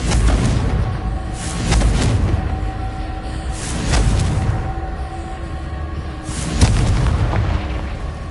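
Confringo fire spell blasts in Hogwarts Legacy on PS5, four heavy booming explosions spaced about two seconds apart, each a loud deep burst that rumbles and fades before the next, no voices.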